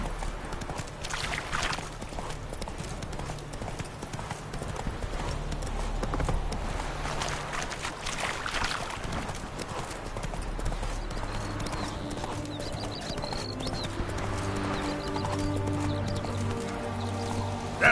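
Roach, a horse in The Witcher video game, gallops with a fast, continuous clip-clop of hooves, while steady music plays and a faint voice comes through.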